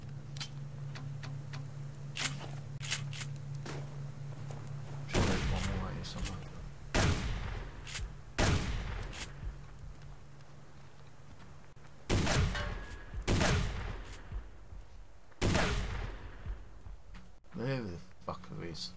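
Gunfire in the Subsistence video game, several loud sharp bursts of shots spaced over a low steady hum, with distant single cracks in between and someone talking at points.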